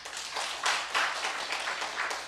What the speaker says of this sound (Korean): 첫날을 잘 마치게 하신 하나님께 영광의 박수 돌립시다